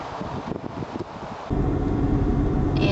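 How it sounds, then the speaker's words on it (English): Strong wind buffeting across an exposed hillside above Charleston, a continuous low roaring rush that grows heavier midway and stays loud, with no one speaking. "And it's really windy up here, not surprisingly,"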